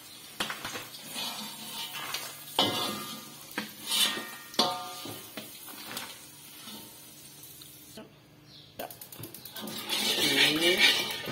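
Sambal garing with anchovies cooking in a pan, with soft sizzling, clinks and scrapes of a utensil against the pan, rising to a louder crackling fry near the end as a voice talks over it.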